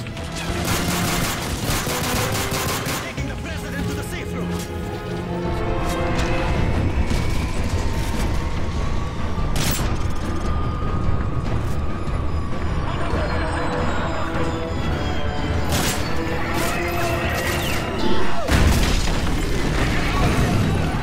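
Sustained gunfire in Call of Duty Modern Warfare 3 during a mission to protect the president, with rapid bursts, booming blasts and scattered shots throughout, mixed with shouted voices and game sound.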